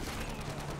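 Rapid gunfire from a machine gun in the video game Modern Warfare 2, a dense continuous burst filling the short moment at a steady loud level with no pause.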